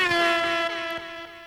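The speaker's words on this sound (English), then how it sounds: "Those air horns are in the show." Air horns blare in the soundtrack of the animated show Mortal Kombat: Conquest. One sustained, loud, steady horn blast gradually steps down in volume.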